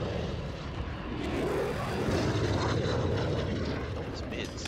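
Droning VTOL aircraft engine in the Modern Warfare video game, a steady broad rumble that swells slightly and holds throughout, with game noise around it.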